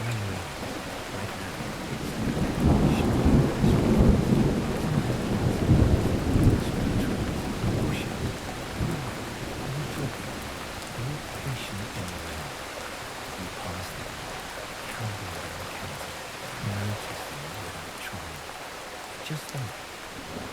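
Steady rain falls on a New York City night, with low rumbling thunder swelling in the first several seconds and scattered heavier drops and distant rolls continuing throughout at a moderate, even level.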